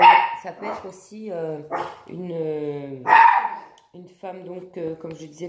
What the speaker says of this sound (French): désolée pour le chien qui a aboyé